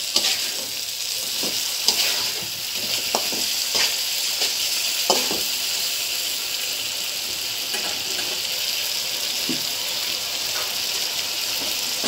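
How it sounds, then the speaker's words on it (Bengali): Pieces of already-fried fish being stirred into a spice masala in a hot pan, for kalmi greens with fish, giving a steady close sizzle with occasional scrapes and taps of the spatula, with no voices. "এবার ভেজে রাখা মাছগুলো আমি দিয়ে দিচ্ছি। আমি মাছগুলোকে মশলার ভিতরে কষিয়ে নিব ভালো করে।"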